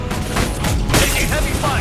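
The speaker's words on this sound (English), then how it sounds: "Taking heavy fire!" Heavy sci-fi gunfire in the video game Mass Effect 2 roars in a loud, dense, continuous burst of shots and booms, with a voice briefly shouting through the chaos.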